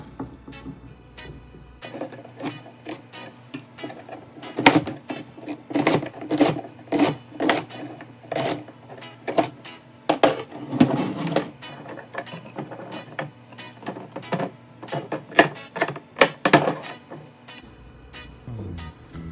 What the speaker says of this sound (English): I already washed my vegetables and I'm going to cut them. Cut my celery first.